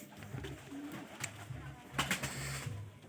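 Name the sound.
pigeons cooing while being fed wheat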